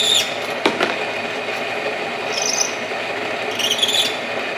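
An RCBS Brass Boss motor runs at high speed while trimmed brass cartridge cases are deburred and chamfered, a steady whirring hum close by with a sharp tick and brief metallic scraping bursts.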